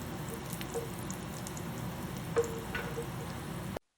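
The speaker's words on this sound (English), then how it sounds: "add 1/2 cup of cashews to the pan and fry them until they turn golden brown" Cashews fry in a pan with a soft, steady sizzle, a quiet, even crackle that runs throughout with a few faint pops before cutting off abruptly.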